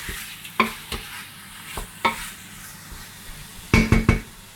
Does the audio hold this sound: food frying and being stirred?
yes